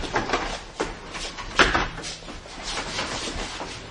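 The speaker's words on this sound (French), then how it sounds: "aidez-moi à pousser cette porte" A heavy barn door thumps and scrapes as it is shoved open, with a sharp knock midway and faint shuffling around it.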